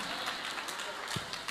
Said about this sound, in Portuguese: Pode aplaudir a palavra de Deus mesmo.